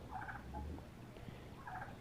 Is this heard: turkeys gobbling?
yes